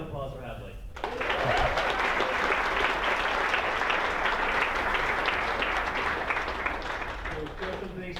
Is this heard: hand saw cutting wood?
no